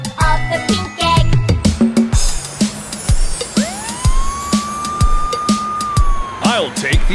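A voice imitates an ambulance siren in a rising and falling beep-bo pattern, then a long electronic siren tone swells and holds, with playful toy sounds around it.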